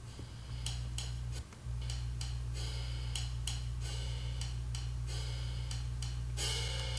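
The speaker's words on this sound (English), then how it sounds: "I actually used one that sounds more realistic than a typical hi-hat sample" Realistic sampled hi-hat from Native Instruments Kontakt Session Drummer, played alone as a steady pattern of crisp ticks at varying strength over a low constant hum, with one brief dropout near the start.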